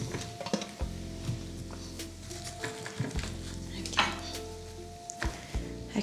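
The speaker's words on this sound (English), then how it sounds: "So now I'm just going to add our vegetables to them" Vegetables tumbling onto browned beef bones in a hot pan for beef stock, sizzling and frying with scraping stirs and clinks of a utensil against the pan, close with no voices.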